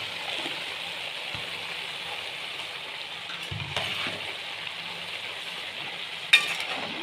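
Chicken, vegetables and boiled spaghetti noodles stirred slowly in a pan, a low steady sizzle with occasional soft scrapes and one sharp metallic clink near the end, no voices.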